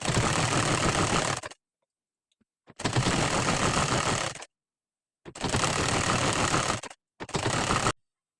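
Sewing machine stitching along the bottom edge of a blouse, running in four loud, steady bursts of rapid mechanical chatter separated by short silent pauses.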